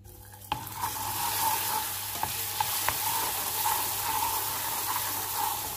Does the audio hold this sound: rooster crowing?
no